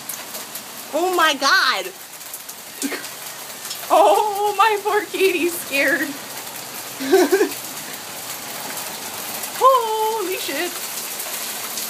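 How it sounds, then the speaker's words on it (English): Hail pelting down during a hailstorm in Tempe, Arizona, a steady dense patter filling the whole scene while someone speaks excitedly over it in bursts. "How the hell is it hailing in Tempe?"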